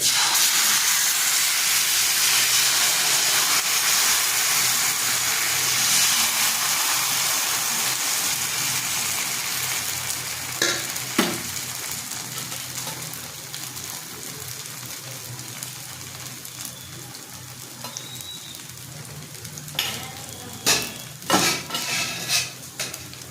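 Dosa batter poured onto an oiled hot pan sizzles with a steady, hissing crackle that slowly fades, while clinks of a ladle and utensils land as scattered taps toward the end.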